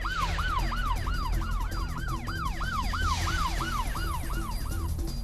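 Police siren during a high-speed car chase, a continuous wailing up-and-down tone repeating rapidly and steadily throughout, over a low rumble of road traffic.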